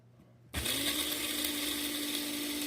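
Eggshells are ground in an electric coffee grinder set inside a sheet pan. After a moment of quiet, a loud, steady high-pitched whir with gritty rattling starts suddenly and keeps running.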